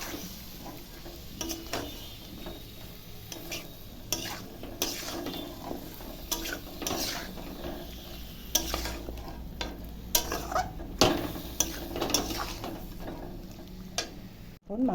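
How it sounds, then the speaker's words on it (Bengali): Chicken with tomatoes, green chillies and spices is stirred in a sizzling pan: repeated scraping and clattering strokes of a spoon over a steady frying hiss, with a louder rattle at the end. "সব উপকরণ দিয়ে নাড়াচাড়া করবো। মাংসটা ভালো করে মিশাতে হবে মশলার সাথে।"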